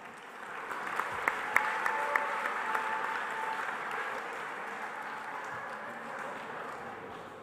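Applause at a SkillsUSA North Carolina opening ceremony honoring top chapters, a broad crowd of clapping with a few sharp louder claps and whistles early on, swelling then settling into a steady, slightly fading patter.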